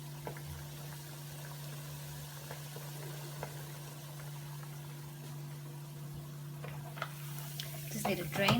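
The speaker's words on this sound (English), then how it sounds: "I'm ready to deep fry my milho frito" Milho frito, Portuguese fried cornmeal, deep frying in hot oil, a quiet, steady sizzle under a constant low electrical hum, with a few small pops and clatters rising near the end.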